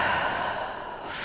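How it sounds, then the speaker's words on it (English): Slow, deep exhale during a seated yoga twist, a steady breathy rush lasting just over a second, close and fairly loud with no talking. "Nice long inhales and exhales for 5"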